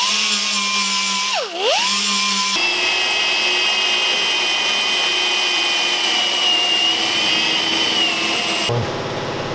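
A power drill runs continuously while boring a hole through the sheet-metal body of a Ford Transit van, loud and close, with a pitch dip early on as it bites, then stopping near the end.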